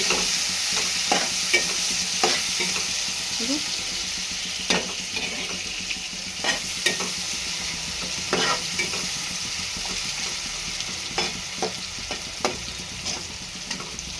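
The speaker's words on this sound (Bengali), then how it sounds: "এই যে পেঁয়াজটা ভাজছি" Onion frying in oil previously used for frying fish, stirred with a spatula at an irregular pace; a steady close sizzle runs throughout, broken by sharp scraping clicks of the utensil against the pan, with no talking.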